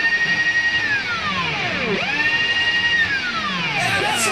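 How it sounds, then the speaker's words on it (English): Power drill intro of a song, a loud whining motor that revs up and down in pitch with sweeping tones, played alone. "We heard the drill going."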